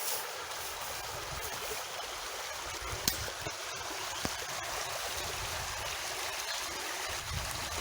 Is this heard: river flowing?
yes